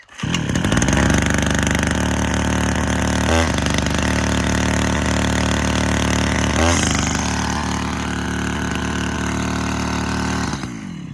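A Vitals BK4 brush cutter's two-stroke engine runs loud and steady at close range, buzzing continuously with slight wavering, then drops away as it stalls near the end.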